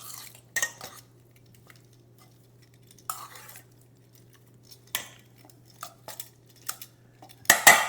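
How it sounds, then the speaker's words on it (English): Spoon stirring boiled potatoes into a dressing in a bowl, a few scattered scrapes and clinks separated by quiet pauses, close by. "we'll stir this up, get these potatoes nice and coated in this dressing"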